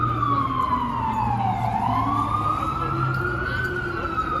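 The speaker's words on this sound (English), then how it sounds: "Wow, another siren." A loud emergency siren wails continuously on a Manhattan street in New York City, its pitch sweeping down and back up, with steady traffic rumble underneath.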